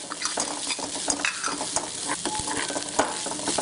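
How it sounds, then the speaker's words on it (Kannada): Onions frying and being stirred in a pan for onion tambuli, a dense, busy crackle with frequent spatula scrapes throughout. "ಈರುಳ್ಳಿಯ ಈ ಹಸಿ ವಾಸನೆ ಹೋಗೋವರೆಗೂ ಹುರಿರಿ"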